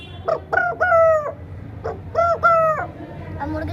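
A person imitates a rooster crowing, two drawn-out cock-a-doodle-doo calls in a row, loud and close, with a short clucking sound after.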